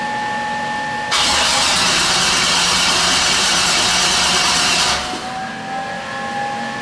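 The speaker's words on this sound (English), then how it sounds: "Should we see how it cold starts?" A turbocharged car engine cold starts with a sudden loud burst that holds at a high, rough idle for several seconds, then drops to a quieter, steadier idle, heard close up.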